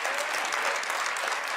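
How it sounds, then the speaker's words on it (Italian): A big round of applause from a live theatre audience, continuous and loud, many hands clapping together in a thick steady roar for the whole short stretch. "Fatevi un grande applauso, così la gente pensa che sia per me."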